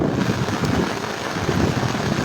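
Heavy rain near the swollen Gomti River in Cumilla pours in a dense, steady roar with no breaks, blended with wind buffeting the microphone.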